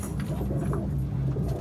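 Pet pigeons coo softly in a fancier's loft, a low burbling murmur running steadily through the short stretch, close by and without talk.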